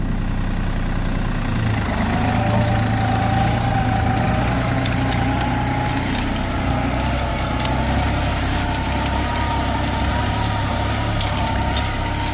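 A New Holland TT3.50 tractor engine runs at a steady, rumbling idle, close and continuous throughout with faint rattles and no speech.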